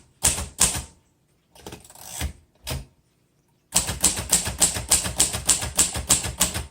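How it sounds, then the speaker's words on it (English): Keys of a 1949 Royal Arrow portable typewriter strike in crisp, close clacks: two quick hits, a scattered few, then a steady rapid run of evenly spaced keystrokes, typing in red ribbon, with no voices. "Right now I'm typing in the red."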